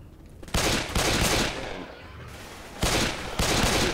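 Bursts of rapid gunfire in Left 4 Dead 2 come in several loud volleys separated by brief quieter gaps, dense and close.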